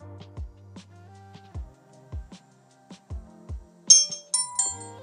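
Power-on chime from a Hoverair X1 Pro drone: a short melodic sequence of bright electronic tones, with soft clicks and handling thumps before the higher final notes, close and fairly quiet.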